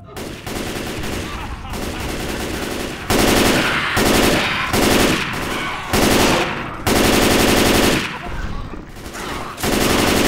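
Heavy automatic gunfire in Left 4 Dead 2 comes in loud, sustained bursts separated by short pauses, close and dominant throughout the scene.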